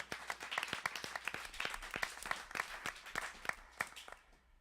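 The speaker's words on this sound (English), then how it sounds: "Let's give them all a round of applause again." Scattered hand clapping from a small audience, fairly faint and distant, a loose steady rhythm that thins out toward the end.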